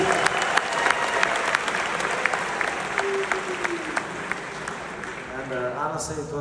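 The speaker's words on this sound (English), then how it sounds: "Come on, round of applause, guys." Audience applause fills a Khabib Nurmagomedov interview event, a steady dense clapping crowd throughout, with a voice speaking over it near the end.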